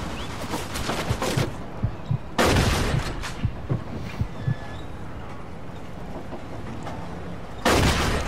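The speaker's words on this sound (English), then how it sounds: "Alright, shotgun time." Shotgun blasts ring out in the video game Mafia II, three heavy booming shots spaced a few seconds apart, each with a short decay, over a busy backdrop of other distant gunfire and game noise.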